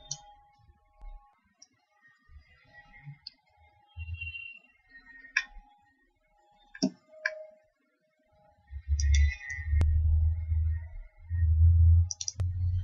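A computer mouse clicks while selecting a file in torque speed curve plotter software, giving a few sparse, sharp clicks over a quiet background, followed by low rumbling handling noise.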